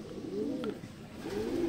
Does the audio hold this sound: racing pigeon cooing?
yes